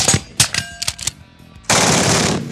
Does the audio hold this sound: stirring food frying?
no